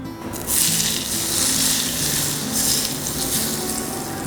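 Hot oil poured onto grated carrot and radish for an instant pickle, giving a loud, steady hiss and sizzle that swells quickly and holds for several seconds.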